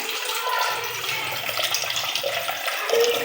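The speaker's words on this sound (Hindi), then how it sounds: "अब हम पानी डाल रहे हैं इसके अंदर।" A steady stream of water pours into a pan for spicy Korean-style noodles, a continuous splashing rush with no pauses, close and fairly loud.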